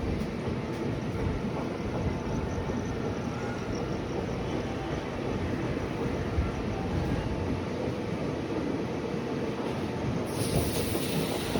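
A passenger train rolls into Bangalore Cantonment station with a steady, rumbling roar of wheels and carriages that holds for about eleven seconds, heard from inside the train.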